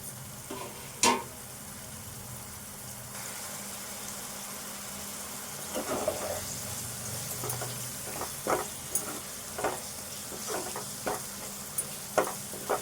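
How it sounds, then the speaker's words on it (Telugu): Spices frying in a pan in Telugu home cooking, cooked until their raw smell is gone: a steady low sizzle with a string of sharp clicks and scrapes from stirring, moderately close, no voices. "ఇవన్నీ కూడా వేగాలి మంచిగా పచ్చి వాసన పోయేదాకా వేగాలి"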